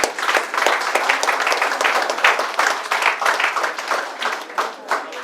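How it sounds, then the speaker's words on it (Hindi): Applause from an audience welcoming an award winner at a hotel event, a dense, steady wash of many hands clapping for several seconds, loud and continuous with slight surges, and no clear talking over it. "जोरदार तालियों से इनका स्वागत करेंगे"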